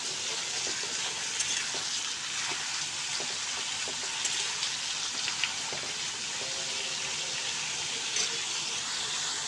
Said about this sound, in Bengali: যেটাকে আমি খুন্তি দিয়ে ভালো করে মিশিয়ে নেব।